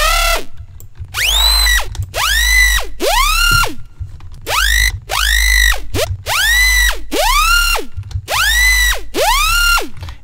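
A power tool bass synth patch built in Serum plays a series of about eight loud, repeated notes, each with a drill-like whining pitch sweep and a heavy low end, separated by short gaps.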